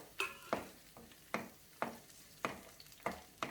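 Capsicum stirred and frying in a pan with carrot, giving a series of scraping stirs roughly every half second over a soft sizzle, close and moderately loud with no talk.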